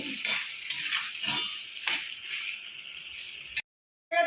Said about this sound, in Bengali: আর পাঁচ মিনিট ভালো করে একটু কষিয়ে নেব